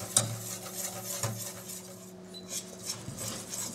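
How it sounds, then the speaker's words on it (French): A milk, cornstarch and egg mixture is stirred in a pot, a spoon scraping and clinking against the metal with a steady soft swirl and occasional sharp taps. "on n'arrête plus de tourner jusqu'à ce que le mélange s'épaississe"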